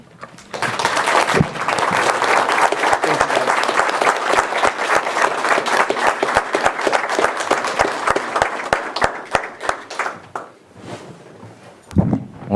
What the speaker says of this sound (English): So let's give a special round of applause to this department